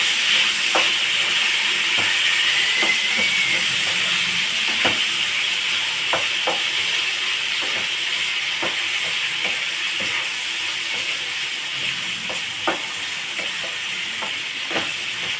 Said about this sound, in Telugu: బాగా మగ్గాలండి నూనెలో వంకాయ.